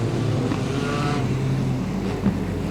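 A wingless sprint car accelerates hard down the speedway at Archerfield during a 50-lap A-main, its engine a loud, steady, continuous roar that holds near and strong throughout.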